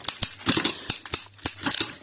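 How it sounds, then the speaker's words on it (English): A cloth strap ratcheted tight over packing foam wrapped in clear tape, giving a rapid series of close crinkly creaks and scratchy clicks with a faint low thud between them. "that's the sound of the strap kind of digging into the foam"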